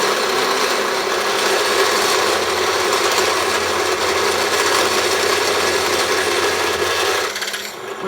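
A drill bit chatters hard while boring into a steel fab-block welding table, running too fast, a loud continuous grinding rasp that holds steady for about seven seconds before easing off.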